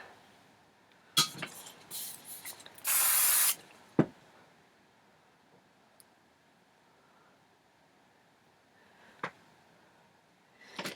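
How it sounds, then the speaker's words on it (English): Hairspray hisses from an aerosol can in a few short bursts, one longer, up close over a 1950s-style roller set, with soft handling sounds between. "Now at this point, you might want to do a little bit of a spray."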